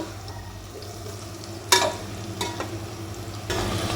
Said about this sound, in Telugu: చూడండి ఇక్కడ ఆనియన్స్ కూడా ఫ్రై అయిపోతున్నాయి